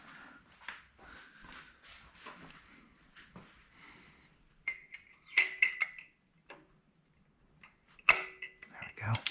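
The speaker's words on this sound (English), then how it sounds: "we are going to set the torque wrench to 20 foot-pounds" A torque wrench set to 20 foot-pounds tightens a fastener during valve lash adjustment on a Honda S2000, giving sharp, close metallic clicks around the middle and near the end, with quiet handling noises between.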